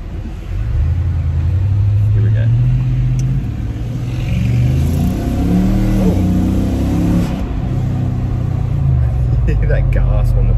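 Nissan Patrol Y62 V8 engine revving after a newly fitted exhaust system, deep close rumble rising and falling through a couple of throttle blips, loud and steady, with talk over it.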